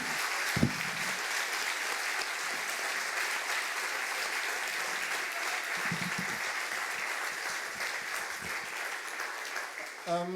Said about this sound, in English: Can we have an applause, please?